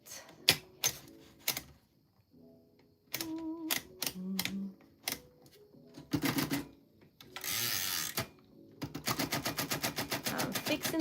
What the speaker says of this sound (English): I'm fixing the typewriter, y'all.